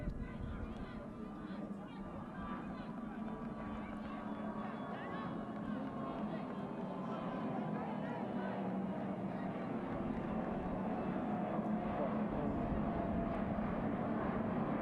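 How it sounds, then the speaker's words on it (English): A fixed-wing airplane passes overhead during a women's football qualifier in the Turks and Caicos Islands, its steady engine roar filling the whole stretch beneath faint crowd and field noise. "You can hear the plane flying overhead."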